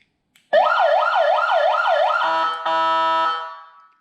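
The siren on a custom Mercedes Zetros ride-on toy truck, tested with the hood on, gives a loud, close wailing yelp that switches to a steady two-tone blare before cutting off.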